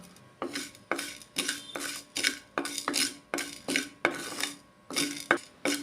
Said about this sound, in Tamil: தொக்குக்கு தேவையான அளவுக்கு கல்லுப்பு நம்ம சேர்த்து வறுத்தெடுத்துடலாம்